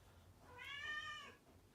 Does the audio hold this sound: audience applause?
no